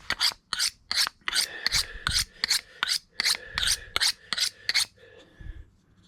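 Cheap stainless steel skinner knife being sharpened, about a dozen quick, crisp rasping strokes in an even rhythm, close and clear, then a short quieter scrape at the end.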